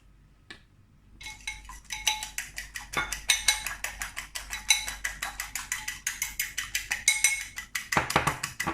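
Egg being whisked in a bowl for a keto okonomiyaki, a rapid, even run of close clinking strokes that starts after a second of near silence and keeps up its rhythm to the end.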